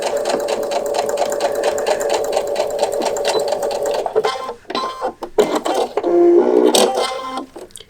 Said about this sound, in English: Pop it under the sewing machine